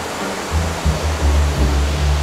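Water pours over a waterfall into a deep pool with a loud, steady, full rushing roar, close by and alone with no voices.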